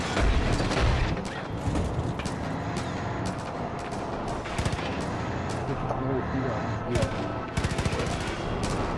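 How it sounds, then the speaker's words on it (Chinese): Bursts of automatic gunfire in the video game Far Cry 5, sharp repeated volleys loud and close, with talk running over parts of the shooting. "我现在就刚开枪了"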